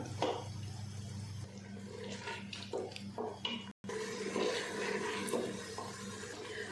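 Water splashes and gurgles as it's poured into a cooking pot of frying lentils and minced meat, a steady close liquid rush with some metallic clinks.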